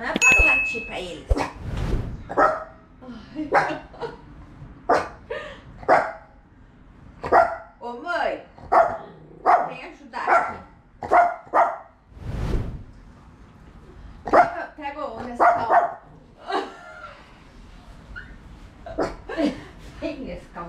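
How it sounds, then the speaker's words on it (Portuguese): A pet dog barks repeatedly in sharp bursts across the span, close and loud, with a person talking over it and faint music underneath. "Não, Nenê, não é para latir pra eles."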